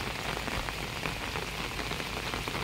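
Steady rain falls on an outdoor garden, a dense even hiss with scattered close drops pattering on surfaces throughout, no voices.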